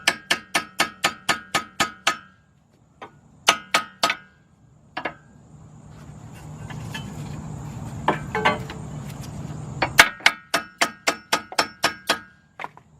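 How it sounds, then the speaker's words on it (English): A hammer taps a chisel into a car axle spindle on a 2001-2004 Hyundai Santa Fe, giving sharp metallic strikes in quick even runs, then a stretch of rustling handling noise before another rapid series of taps. "we're going to set the chisel right there, and we're just going to tap that chisel in there."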